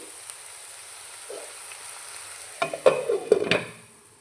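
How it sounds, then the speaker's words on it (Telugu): Onions browning in a pan for potato curry, a faint steady sizzle that builds near the end into several close, louder stirring scrapes and clatters. "మంచి బ్రౌనిష్ కలర్స్ వచ్చేంత వరకు వేయించుకోవాలి"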